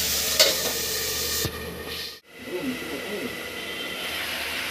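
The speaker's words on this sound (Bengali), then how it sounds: "আমার আলু আর ছাতু ভাজা হয়েছে কিনা।" Potatoes and sattu fry in a pan for a crunchy kurkure-style dish, giving a steady sizzle with stirring scrapes; the noise cuts briefly as if covered, then the sizzling resumes.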